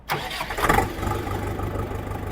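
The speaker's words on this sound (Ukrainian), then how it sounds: "Ну і наостанок зніму звук роботи двигуна." A Kentavr 404 SD tractor engine cranks and catches, then settles into a steady, low chugging idle with a rhythmic diesel knock, close by and fairly loud.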